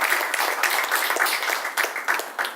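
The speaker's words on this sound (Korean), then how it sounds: "박수 맞아주십시오." Audience applause welcomes a guest speaker at a Korean community event, a dense, steady patter of many hands clapping for a few seconds with no voices over it.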